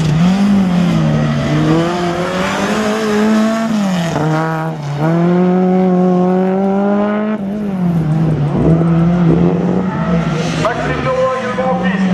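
Race car at a slalom event in Le Neubourg, the engine revving loud and close, pitch rising and falling through gear changes. An announcer talks over it.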